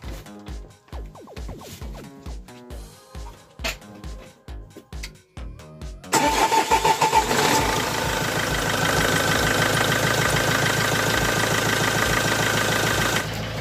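A Vauxhall Opel Vivaro van engine, just fitted with a repaired alternator, is started: several rhythmic cranking pulses, then it catches at about six seconds and settles into a steady, loud idle for the rest.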